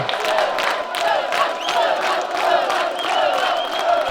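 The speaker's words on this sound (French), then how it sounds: "La foule est en délire!" A stadium crowd cheers wildly, a sustained roar of many voices with whoops and shouts rising and falling, loud and dense throughout.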